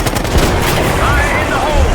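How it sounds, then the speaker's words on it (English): Close, steady machine-gun fire rattles in a Call of Duty: Black Ops 6 campaign battle, a dense and loud barrage lasting the whole short moment. "Damn, we're taking fire!"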